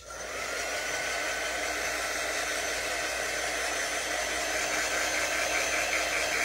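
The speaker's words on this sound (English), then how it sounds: "I'm going to use my quick dry tool." A quick-dry heat tool blows steadily to dry chalk paste on a craft project, a loud, continuous hair-dryer-like whoosh that holds even for the whole stretch with no talking.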